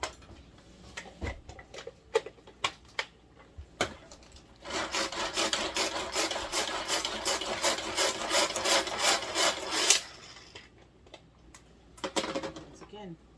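Vegetables for a pot roast are finely chopped in a manual chopping device: after a few scattered knocks and clicks, a dense, rapid rattling whir runs steadily for about five seconds, close and loud, then stops abruptly.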